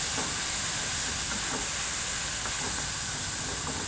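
Tomatoes softening in a pan for butter chicken give a steady, broad hiss of frying and steam, continuous and fairly close, with no voices.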